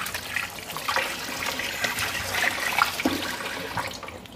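Food being washed under running tap water before cooking pumpkin and Irish potatoes, with a steady, close rush and splash of water and occasional sharper drips and clatters, with no talking.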